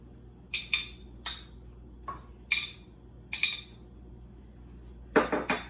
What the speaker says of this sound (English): you just literally take your little fork and separate all of the little pasta pieces